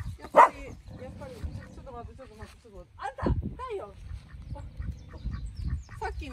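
Ducks quack outdoors in short honking calls scattered across the clip, mixed with other bird sounds and background noise, with a person speaking nearby.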